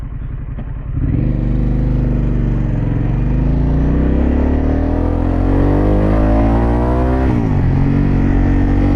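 A Harley-Davidson Pan America with a Vance exhaust is ridden under power, its engine note swelling loudly as it accelerates through gears. A deep, continuous drone rises in pitch, drops back at a shift and climbs again.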